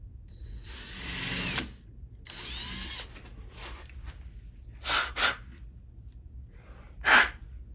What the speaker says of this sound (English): we're going to use a Forstner bit, drill as straight as a hole as we can